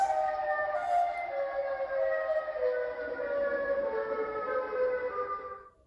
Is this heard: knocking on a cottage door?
no